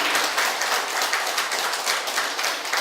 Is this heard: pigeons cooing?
no